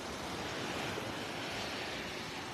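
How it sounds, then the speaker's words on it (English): Small, gentle surf washing steadily onto a beach in North Naples, Florida, a continuous broadband wash of little waves with light wind noise and no voices. "Little surf action here"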